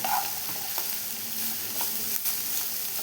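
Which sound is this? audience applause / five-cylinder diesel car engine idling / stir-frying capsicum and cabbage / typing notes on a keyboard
stir-frying capsicum and cabbage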